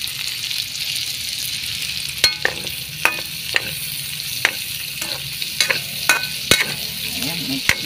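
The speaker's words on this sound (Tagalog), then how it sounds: "Saute muna ng ilang minuto hanggang mag-golden brown siya. Tapos mix na natin ang kanyang mga laman-laman dito sa lechon." Lechon with its filling sautéing and being mixed in a pan, a steady low sizzle punctuated by repeated sharp spatula scrapes and clinks at an uneven rhythm.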